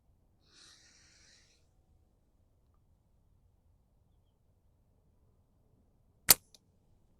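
A SimpleShot Slant Spartan slingshot fires one sharp, loud snap that stands out against near silence. A faint rustle comes a few seconds earlier.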